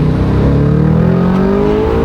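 An Audi RS7 Stage 3+ on a dyno in second gear revs hard, its loud, deep engine note climbing steadily in pitch throughout with no talking over it.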